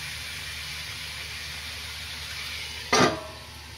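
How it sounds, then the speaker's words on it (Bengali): Mutton liver frying in a pan during a Bengali kosha curry, a steady soft sizzle with a brief louder burst near the end. "এখন আমি মেটেগুলো ভালো করে কষিয়ে নেব।"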